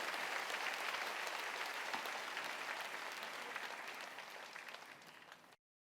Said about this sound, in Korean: 우리 모두 하나님께 영광의 큰 박수를 보내며 입장을 모두 마치겠습니다